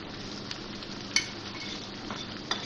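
Mutton liver fries with green chillies as spices go into the pan, giving a quiet, steady sizzle with a few soft clinks of a utensil.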